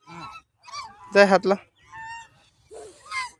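Ducks in a park give several loud, nasal honks in a short burst near the middle, close by, with a child and an adult talking around them.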